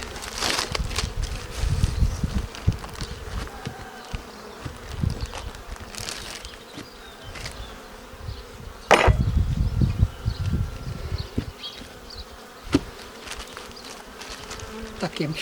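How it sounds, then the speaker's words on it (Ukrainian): Honey bees swarm and buzz around an open Ukrainian-Alpine wooden hive during spring nest expansion. A continuous near drone rises and falls, broken by occasional wooden knocks and bumps from handling the hive boxes. "Тепер трішки згоню бжіл."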